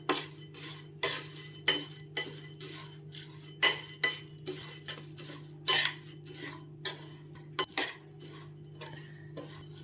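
Semolina and roasted gram dry-fry in a pan over a low flame while a metal spoon stirs them, giving a steady rhythm of scraping strokes and bright clinks against the pan, close and clear.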